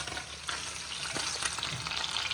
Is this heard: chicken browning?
yes